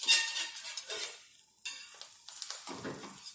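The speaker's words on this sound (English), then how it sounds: "you could kind of hear it sizzle a bit" A Reuben sandwich fries in a pan, giving a bright hissing sizzle close by, broken by scraping and stirring sounds from a utensil against the pan.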